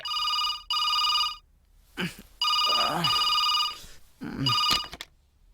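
A telephone bell rings in repeated bursts, loud and close, with people talking briefly in the pauses between rings, in a Telugu film comedy scene.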